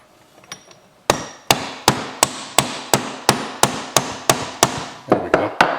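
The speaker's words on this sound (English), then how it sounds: "this is a rubber tipped hammer" A rubber-tipped hammer taps on a transmission gear during teardown of a two-stroke YZ125 motorcycle: about fourteen sharp, steady knocks in an even rhythm, close and loud, with a few faint clicks before them.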